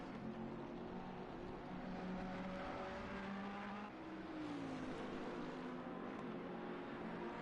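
Onboard engine drone of a Ferrari GT3 race car in a sim race at the Nürburgring, a faint steady whine rising and shifting through gears, continuous and somewhat distant.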